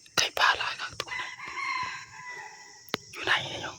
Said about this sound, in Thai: ไก่ป่าหลายครับตัวนั้น